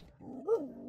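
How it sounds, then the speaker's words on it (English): A dog met while out walking in Albania gives a single short whine or bark that rises and falls in pitch, heard close and on its own over low background rumble. "So this dog, he came running as soon as he saw us."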